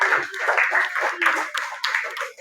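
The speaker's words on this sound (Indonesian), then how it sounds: "Beri tepuk tangan masyarakat lagi untuk Firda." A classroom of students applauds a classmate with brief, scattered clapping that mixes with voices, moderately close and lasting a couple of seconds.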